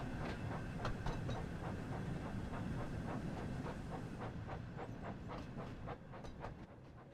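Thomas and Gordon engines rolling out of a station on rails in a Sodor setting, with a steady hissing rumble and regular clickety-clack beats over the wheels, close and continuous.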